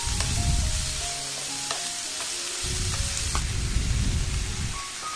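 Chopped onions sauté in a hot pan for a spicy chicken ghee roast, with a steady close sizzle and intermittent scraping of a spoon against the pan, and no talk.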